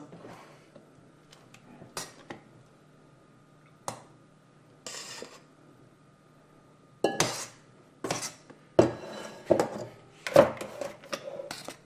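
Whipped cream folded into a pineapple mixture in a bowl gives sparse, quiet scrapes and sharp clinks of utensil against bowl, clustering more densely toward the end, with no talking.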